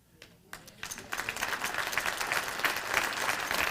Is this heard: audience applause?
yes